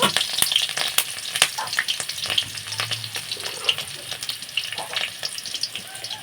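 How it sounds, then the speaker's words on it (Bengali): Green chillies crackle and sizzle in hot oil in a pan, with a dense, steady spitting hiss and sharp pops through the whole stretch, close and fairly loud, with no talk. "লঙ্কাগুলো একটু ভাজা ভাজা করে নেব।"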